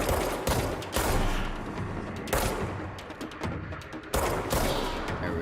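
Shotgun fire in the video game Alan Wake's American Nightmare, several sharp loud blasts spaced about a second apart, each followed by a short decaying rumble and mechanical clatter.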